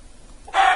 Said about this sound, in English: There's a chicken in here, isn't there?